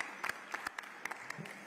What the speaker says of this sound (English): a better round of applause for that first intervention from our honorable ministers